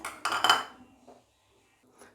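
Roasted chana dal is tipped into a bowl from a pan, making a brief close clatter of metal and dry lentils for about half a second, then a faint tap and near silence.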